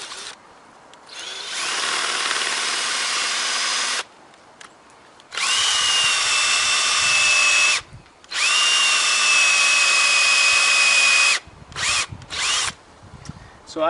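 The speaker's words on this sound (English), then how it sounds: "when you drill the tap hole, you want to drill it on a slightly upwards angle" Power drill boring a sap tap hole into a maple tree trunk: three long, loud whirring bursts with steady pitch, separated by short pauses, then a few brief stuttering revs at the end.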